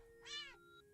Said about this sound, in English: You can hear the yowling of what sounds like hundreds of cats outside your bathroom window.